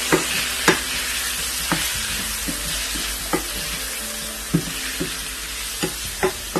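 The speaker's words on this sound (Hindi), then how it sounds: "इन तमाम चीज़ों को मैं मिक्स करूँगी।" Chicken pieces being mixed with turmeric, salt and black pepper in a hot pan: close, sizzling frying under repeated spoon scrapes and clacks at an uneven rhythm, with no voices.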